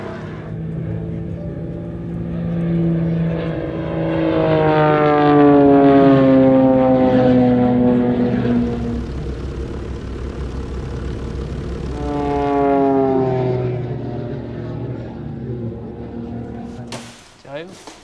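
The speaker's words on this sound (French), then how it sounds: "On a cherché un avion qui soit donc un biplace, un avion qui soit représentatif d'une période donnée" A two-seater propeller airplane drones across the sky, its engine pitch sweeping up and down twice as it approaches and passes, loud then fading, with a voice speaking over it.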